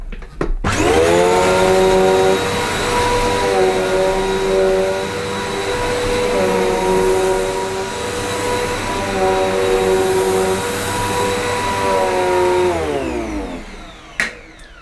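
A Zanuusi AirSpeed Lite II Pet bagged upright vacuum runs loudly and close up on short-pile man-made carpet, its steady motor whine dipping and rising in pitch as it is pushed back and forth, then switching off near the end.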